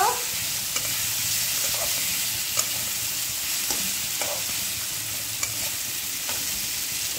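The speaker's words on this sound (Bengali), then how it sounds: "চালটাকে ভেজে নিলাম অল্প" Rice fries lightly in a pan with a constant close hiss, punctuated by occasional soft scrapes and taps of a stirring utensil, no voices.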